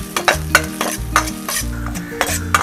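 Loud sizzling of ginger and chopped garlic frying in hot oil, with a spoon scraping and stirring in a steady rhythm.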